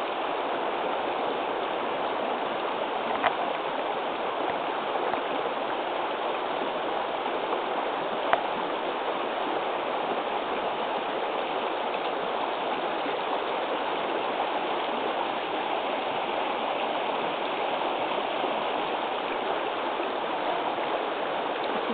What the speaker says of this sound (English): So that's what the creek looks like right now, 4 days into rain. But the sound is fantastic.